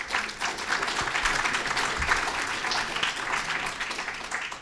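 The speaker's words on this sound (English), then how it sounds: "So Give yourselves a round of applause" Sustained audience applause fills a closing session of a conference on gay American history at The New School, a dense, steady wash of clapping hands from a sizable crowd, even in loudness throughout.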